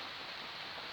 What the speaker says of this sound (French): Ah, ça pleut.